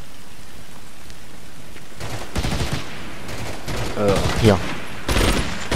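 Machine gun fire in the World War II shooter Medal of Honor: European Assault on PS2, heard as several loud rapid bursts in the second half, with a voice speaking briefly over the gunfire.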